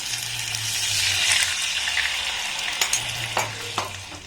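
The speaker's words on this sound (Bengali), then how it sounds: "গ্যাসের ফ্লেমটাকে লো রেখে এবার এটাকে একটু আমি হালকা করে নাড়াচাড়া করে নেব।" Chutney mixture with a little added water is stirred in a pan over a low gas flame, giving a soft bubbling sizzle, a faint low hum and a few sharp spoon scrapes near the end.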